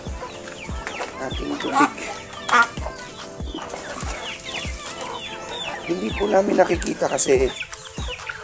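Farm chickens cluck and squawk around a laying duck, close and lively, with a few louder calls standing out while a person talks over the birds.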